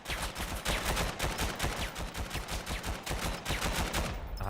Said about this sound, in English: Blind firing from Sandy actually manages to pick up Natman